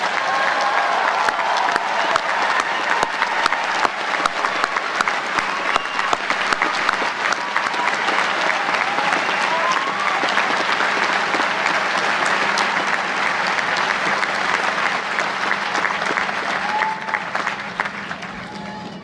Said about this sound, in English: How about another round of applause for our graduates?